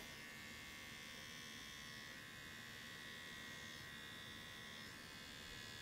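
A sharp electric hair clipper hums steadily and close while it cuts the outline of a men's undercut with a fade, a continuous even buzz with no talking.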